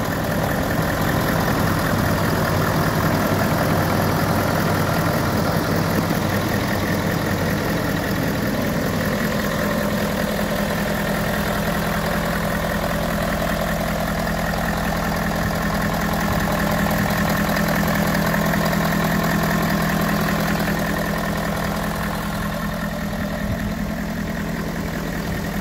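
A 2016 Ford F250 pickup idles under an open hood, a steady, continuous engine drone with a low hum that stays even and close for the whole stretch, no one speaking.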